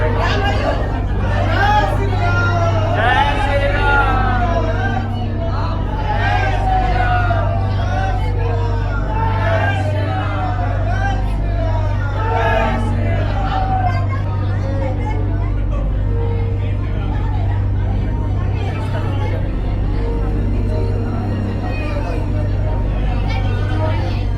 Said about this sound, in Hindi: बहुत भीड़ है यार।